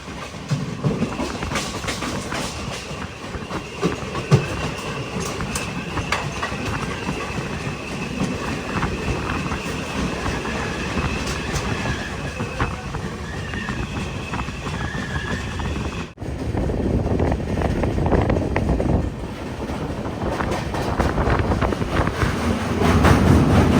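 Kacheguda Murdeshwar Express pulling into Kasaragod railway station, its wheels keeping up a steady rhythmic clatter on the rails that grows slightly louder toward the end.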